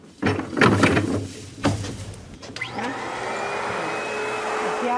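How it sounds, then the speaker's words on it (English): A giant backpack vacuum cleaner, strapped onto a worker's back for office cleaning, switches on and runs with a steady, loud motor whine after a few thuds and handling knocks. "She's practically dwarfed by the giant vacuum cleaner she straps onto her back."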